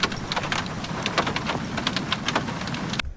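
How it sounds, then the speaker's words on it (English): Hail and heavy rain pelt a car during a video game storm, a dense continuous hiss broken by many sharp, scattered impacts, loud and close, ending suddenly. "you can even hear the hail sounds hitting the car at one point"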